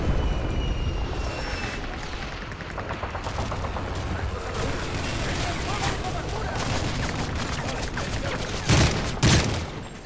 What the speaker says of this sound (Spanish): Con tantas explosiones, hermano.